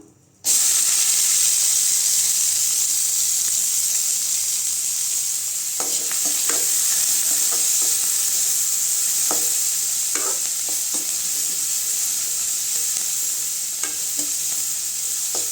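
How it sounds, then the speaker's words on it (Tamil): Onions fry in hot oil in a pan for an egg poriyal, giving a steady loud sizzle and hiss throughout with occasional faint clicks of stirring and no voices. "படைச்சடி சூடானது எண்ணெய் ஊற்றிக்கிட்டேங்க வெங்காயம் சேர்த்துக்கலாம்"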